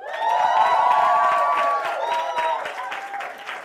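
A live talk-show studio audience applauds and cheers loudly, with whoops and a sustained roar that fades slightly toward the end.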